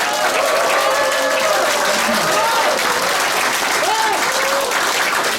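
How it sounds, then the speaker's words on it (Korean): Loud, dense applause from a crowd at an office opening ceremony for a gubernatorial candidate, steady and unbroken for several seconds with cheering voices rising briefly above the clapping. "여러분 동의하시면 처음 박수를 좀 해주십시오."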